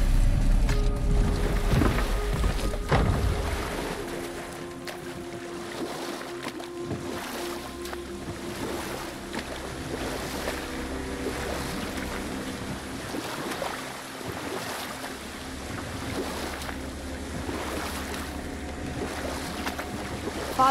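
A wooden boat glides over water in the God of War video game, with steady wind, lapping waves and creaking hull noise, a heavier rumble at the start that settles into a calm continuous wash, no talking.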